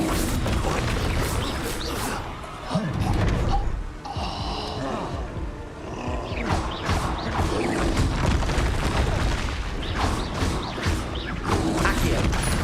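A Confringo spell explodes in Hogwarts Legacy amid dense combat noise, with booming blasts, crashes and creaks in a loud, busy mix.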